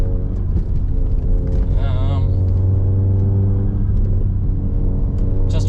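A VW Golf GTI MK7 fitted with a Racingline front strut brace drives along a street, heard from inside the cabin as a steady, loud, low engine and road drone that holds for the whole stretch.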